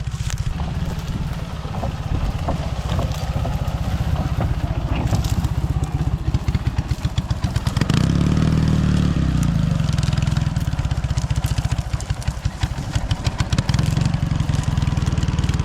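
An off-road cross motorcycle's engine runs close by, then revs and pulls away as the rider sets off, with a rising, sputtering drone that stays loud and continuous throughout.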